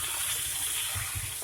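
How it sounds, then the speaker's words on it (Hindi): Water pours steadily into a pan of frying tomatoes while cooking Bihari-style dal, a continuous close splashing gush with a faint sizzle beneath, no voices. "अब थोड़ा सा हम टमाटर को पकाने के लिए पानी डाल देंगे"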